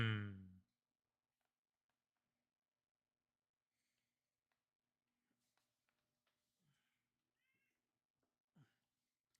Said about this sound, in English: Say hello to the other cat. Meow,